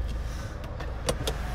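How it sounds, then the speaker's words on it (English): Panoramic sunroof on a Kia Sorento Platinum AWD diesel sliding open, a brief electric motor hum inside the cabin with a few small clicks and ticks. "a stunning panoramic sunroof, which goes all the way back"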